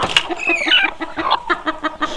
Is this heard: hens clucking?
yes